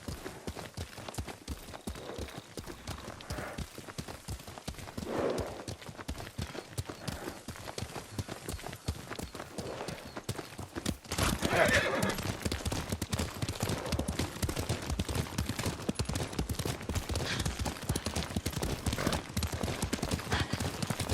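Steady clip-clop of horse hooves throughout in the video game Ghost of Tsushima, growing louder and denser partway through, with brief whinny-like sounds mixed in over ambient noise.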